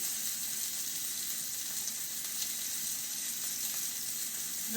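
Beef searing in an uncrowded pan for a hearty stew, a steady, even sizzle with light crackling that holds at moderate loudness without talk.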